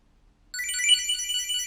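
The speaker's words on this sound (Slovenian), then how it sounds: "In Čipolo zveni." A Chipolo Bluetooth key tracker rings out alone after a short silence, a bright, steady electronic chime that carries through to the end.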